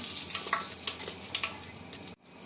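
Mustard seeds sizzle and crackle in hot oil for tempering a dal curry, a brief close hiss with small popping bursts that cuts off abruptly near the end.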